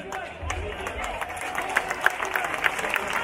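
A crowd at a dahi handi event claps and cheers for a women's team after they form a six-tier human pyramid. Scattered applause and crowd noise run under loud announcer talk.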